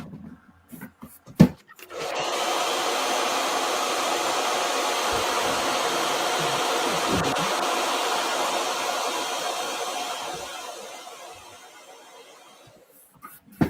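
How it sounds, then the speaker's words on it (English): A blow dryer runs close by for about ten seconds, drying a sculpted model, a steady loud whooshing hum that fades out at the end, with a few handling knocks before it starts. "I'll hit this with a blow dryer right now."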